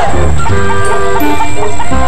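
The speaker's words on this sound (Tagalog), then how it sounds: "Daming manok." Chickens cluck loudly and close by in a busy cluster of short, overlapping calls, with a rooster-like note among them.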